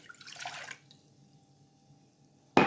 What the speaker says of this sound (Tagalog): yung tubig ilalagay po dito